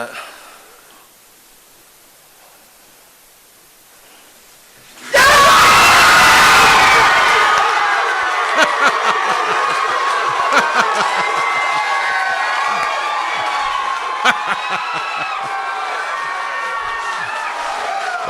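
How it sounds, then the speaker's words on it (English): A crowd at Jefferson High School roars and cheers as a five-star football recruit announces his college commitment, a sudden loud burst after near-quiet, then sustained shouting, whoops and cheering from many people, children among them. "Listen to those roars and that cheer coming out from Jefferson High School."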